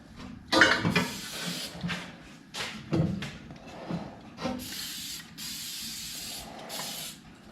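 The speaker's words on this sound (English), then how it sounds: "I think I got this sprayed up enough" Ariens Snow Jet spray is hissed onto the blades of a snowblower in several short bursts, mixed with clunks and rattles as the can and machine are handled, fairly close and with no talk.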